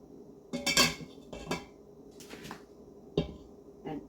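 Metal pans and utensils clink and clatter in several separate bursts while a pot of chicken stew is handled, loud and close against a quiet background.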